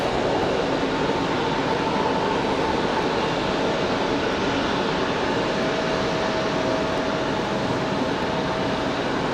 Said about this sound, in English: Public Airways 4518 coming in from Chicago O'Hare, the E175LR